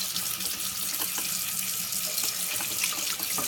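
Tap water runs steadily into a kitchen sink as a dish cloth is rinsed beneath it, a continuous close splashing hiss with small wet splutters and no voices.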